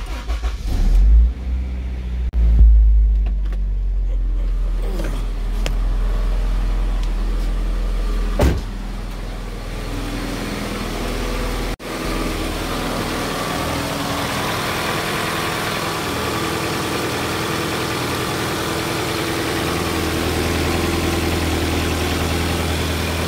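A 1997–2001 Honda CR-V engine cranks and catches after a fuel filter replacement, with a brief rev burst, then settles into a steady, moderately loud idle that runs on alone.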